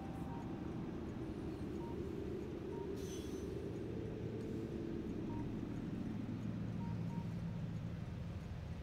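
Train pulling into a station in the factory-building game Factorio, a steady low rumble of rolling wagons with a few faint tonal blips over constant game ambience, no talking.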